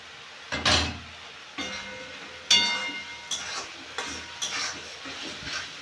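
Turmeric and spices frying in hot oil in a pan, heard as a soft sizzle under several close scrapes and knocks of a spoon stirring against the metal, with no talking.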